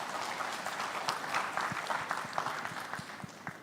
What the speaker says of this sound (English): A big round of applause for all of the presenters